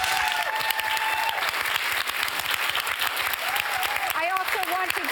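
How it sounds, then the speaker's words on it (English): Sustained applause from a large audience, steady and loud throughout, with a few raised voices and cheers near the end. "Let's give them a big round of applause."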